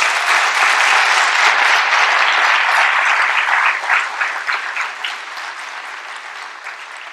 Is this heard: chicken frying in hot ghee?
no